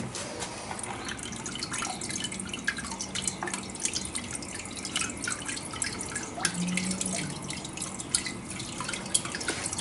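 Rhubarb wine being poured through a sieve, a steady wet trickle with scattered drips running throughout, close and fairly quiet.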